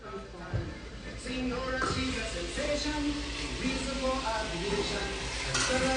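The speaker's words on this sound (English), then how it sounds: "Now we're going to saute. We're going to part cook it, the shrimp." Shrimp sizzle while sauteing in a pan for linguine with clams, a steady frying hiss with occasional utensil clinks and stirring, heard up close beneath people talking.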